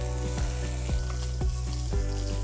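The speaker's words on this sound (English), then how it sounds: "My pan is hot. I'm gonna add my ghee here." Ghee hitting a hot pan before lamb meatballs go in: a continuous close sizzle with a low steady hum and a few soft clicks of a utensil, no talking.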